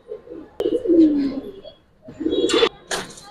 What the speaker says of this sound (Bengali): এটি আমার উড়ানো কবুতর